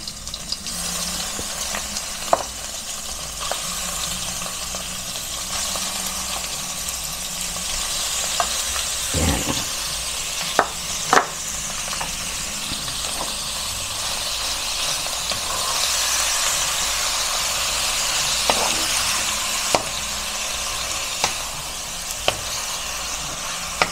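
Ground pork or beef sizzles steadily in a pan with garlic and onion, a continuous frying hiss broken by occasional scraping stirs and sharp pops, close and loud throughout with no talking.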